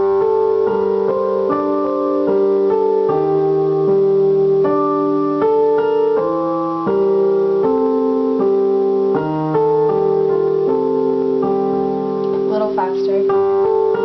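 A slow piano rendition of a piece from Silent Hill, steady sustained chords with a gentle melody line played alone at a moderate, even level throughout.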